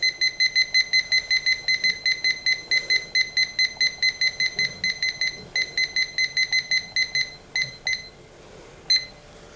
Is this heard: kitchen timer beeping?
yes